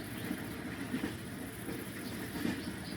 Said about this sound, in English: but the train's coming.